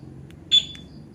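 Rusi RFI 175 motorcycle fitted with a two-way alarm gives a single short electronic beep as it is armed, clear and close against a low background hum.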